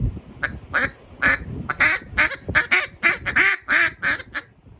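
A world champion caller works a duck call to imitate and settle ducks on the water, blowing a steady series of short, rhythmic quacks, about fifteen notes, close and fairly loud with no talking.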